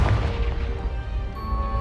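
Confringo fire spell blast in the wizarding game Hogwarts Legacy, a loud booming burst at the start trailing into a low rumbling roar with a bright ringing tone near the end.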